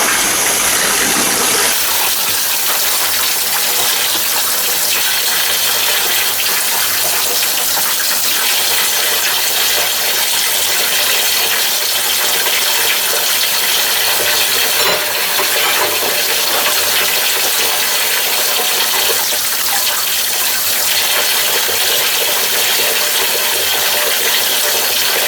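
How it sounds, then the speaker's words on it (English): Lukewarm tap water runs over trombone slides as they are rinsed inside and out, a loud, steady rushing splash close by that continues unbroken throughout. "now we're going to carefully rinse all parts of the slides, inside and out, both sides"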